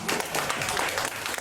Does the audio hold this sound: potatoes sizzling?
no